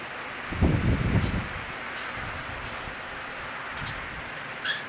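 Wind blows outdoors from the north-northwest in a residential area in Virginia where small wind turbines spin, giving a steady broadband rush with a brief louder gust and some rustling near the start.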